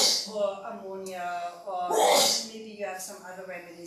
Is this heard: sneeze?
yes